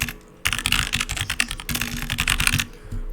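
Fast, close typing on a computer keyboard while entering details into CAD dispatch software, a dense rattle of keystrokes with a short pause midway and a few final taps, no talking.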